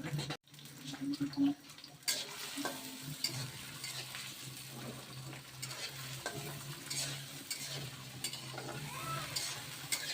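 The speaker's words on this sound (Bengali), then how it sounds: "চিংড়ি মাছ আর পেঁয়াজ একসাথে" Shrimp and onion frying together in a hot kadai of oil, a close, continuous sizzle with repeated scraping stirs, quiet overall and with no talk.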